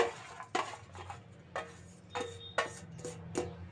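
Chopped onions tipped into a pan for chicken curry, heard as a series of sharp metallic clinks and clatters of a spoon against the pan, about six distinct hits spaced irregularly, close and fairly quiet.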